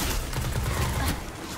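Suros ARI-41 auto rifle fire in Destiny PvP: a dense, continuous stream of rapid shots, loud and close, rattling without a break for over a second.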